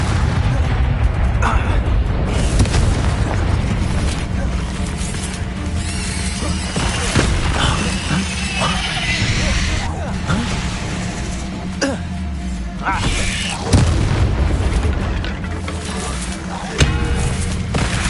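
Repeated blasting-spell explosions in a Harry Potter video game, loud booms and crashing bursts layered over dense, constant game noise, with a few sharper peaks standing out.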